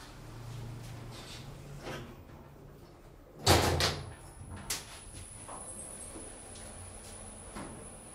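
Doors of a 2013 OTIS Gen2 machine-room-less traction elevator in a parking garage in Ghent closing with one sharp clunk, a smaller knock after it, over steady low machine hum and a faint high whine.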